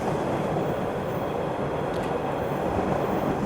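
An MBTA Orange Line 01200-series train in the OpenBVE simulator rolls steadily over ballast track, giving a continuous close rumble of wheels and running gear with no pauses or voices.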